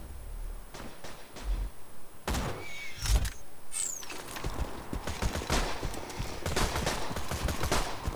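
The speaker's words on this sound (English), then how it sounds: "I like how the bandits shoot at the wreck" Bandits in Borderlands 2 firing guns at a wreck, a steady mid-distance patter of rapid shots and automatic bursts mixed with game ambience, with no one talking.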